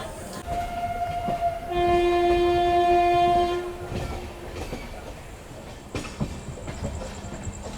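The Amrit Bharat Express 22361 sounds a long, steady two-tone horn as it departs Rajendra Nagar Terminal in Patna. Wheel and carriage rumble continue underneath, and a few clanks follow.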